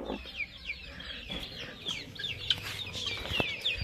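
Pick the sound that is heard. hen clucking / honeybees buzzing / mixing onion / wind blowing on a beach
hen clucking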